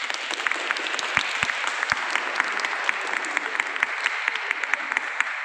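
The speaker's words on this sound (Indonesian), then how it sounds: "Tepuk tangan." A small group of participants in a church youth Bible study claps together, dense crisp hand claps in a steady patter lasting several seconds, close and lively.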